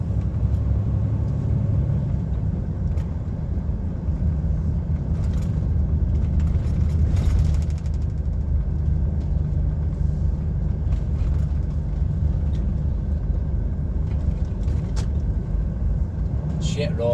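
Heavy goods vehicle cab driving along the tight, winding A82 by Loch Lomond in Scotland, with a steady low engine rumble and road noise throughout while someone talks over it.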